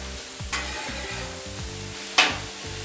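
Butter and kale sizzle in a hot pan on the stove, a steady crackling hiss with two sharp bursts of louder spitting as the food is stirred, while a background hum carries on underneath.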